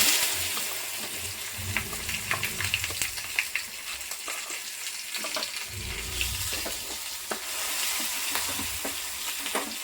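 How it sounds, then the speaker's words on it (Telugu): Ridge gourd chutney goes into a pan just off the stove and gets stirred, with soft sizzling and scraping spoon strokes in uneven bursts, close and fairly quiet. "స్టవ్ ఆఫ్ చేసేసి ఇందులో ఈ పచ్చడిని మొత్తం వేసేసుకోవాలి."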